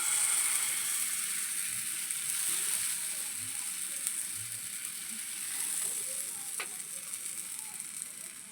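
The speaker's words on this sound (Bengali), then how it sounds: "এই যে দিয়ে দেবো হাফ চামচ মতন তেল এবারে এক চামচ করে আমি দিয়ে দেবো ব্যাটারটা" Semolina batter sizzling in hot oil in a pan, a steady faint hiss that holds throughout with a few small clicks, no talking.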